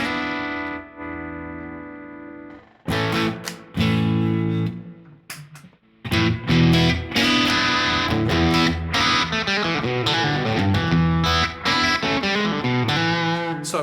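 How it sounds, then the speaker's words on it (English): An electric guitar runs through a distortion effect on an M9 Stompbox modeler, with sustained chords, a pause, then loud, dense, gritty strummed and picked passages, playing alone without talk. "That should be just kicking with distortion."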